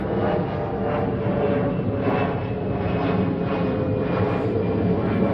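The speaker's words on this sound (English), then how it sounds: "I'm just going to let this airplane go over" A fixed-wing airplane passes overhead outdoors, its steady, loud engine roar sustained and even with no voices over it.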